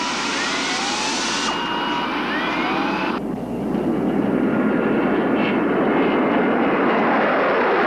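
Loud jet aircraft roar continuously, a high whine shifting and dropping as the planes pass, leaving a broad rushing engine noise.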